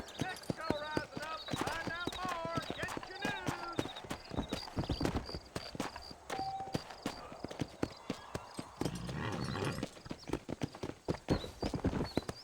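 Horse hooves clip-clopping in a steady galloping rhythm in Red Dead Redemption, close and loud, with an occasional whinny and a voice talking over the hoofbeats.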